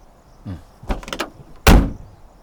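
A car door swinging shut in a Tamil film scene, a single loud thump near the end after a few quieter clunks and rattles, close by with no talking.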